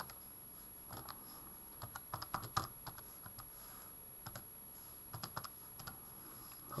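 Numbers are tapped into a calculator, quiet irregular clicks of keys pressed in short bursts and single taps, close and soft with no voices.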